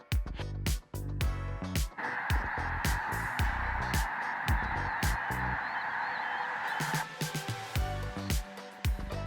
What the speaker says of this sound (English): Snow geese gathered across Carlisle Lake, thousands of white wings moving over calm water.